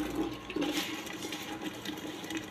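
Tap water runs steadily while a cup is washed in a home kitchen, a close, continuous splashing wash with no talking.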